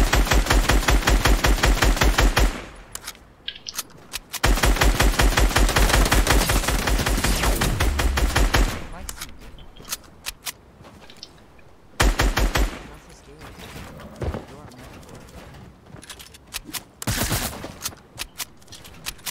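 Assault rifle fire in a shooter video game rattles out in loud, dense automatic bursts separated by short gaps, with quieter scattered shots and clatter in between.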